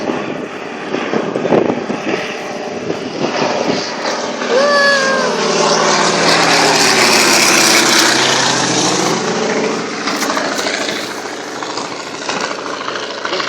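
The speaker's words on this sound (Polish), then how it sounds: "Samolot leci." A propeller airplane flies over a fire, its engine drone swelling as it passes close overhead and then fading, loud and continuous for over ten seconds.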